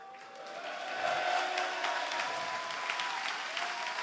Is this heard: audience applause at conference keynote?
yes